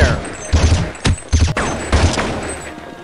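Gunfire from the video game Counter-Strike 1.6 on the de_aztec map: several bursts of rapid shots and low thumps, loud and close, with one sharp crack partway through.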